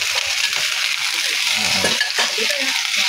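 Ginger and onion sautéing in a pan for a Bicol Express made with crab, a loud, steady close sizzle with light stirring scrapes and clinks.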